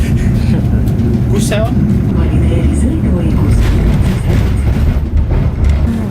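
Steady low rumble and rattle of a moving tram ridden from inside, continuous and loud, with people talking close over it.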